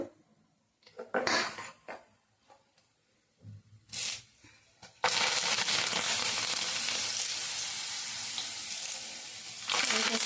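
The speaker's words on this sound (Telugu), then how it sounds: "ఇదిగోండి వేగుతూ ఉన్నాయి." Mustard seeds, urad dal and chana dal fry in hot oil in a pan as a tempering for a carrot fry. Intermittent crackles and clatter give way to a loud, steady, close sizzle that continues to the end.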